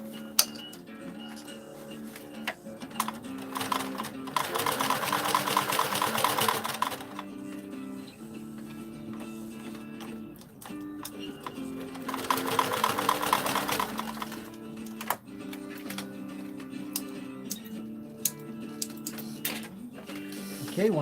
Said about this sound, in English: So I'm using the zigzag stitch, which is really nice.